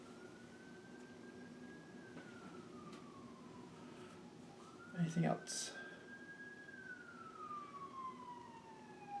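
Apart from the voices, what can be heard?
ambulance siren passing by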